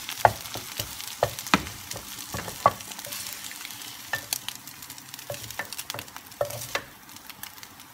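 Scrambled cauliflower rice stir-fried in a pan, a soft steady sizzle broken by repeated sharp scraping clicks of a utensil against the pan, irregular but frequent, close and alone.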